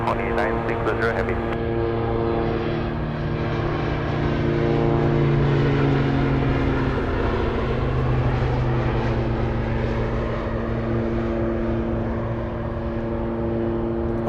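A heavy jet airliner takes off on runway 25 left at Anchorage airport. Its loud, continuous engine roar stays strong and even from start to finish.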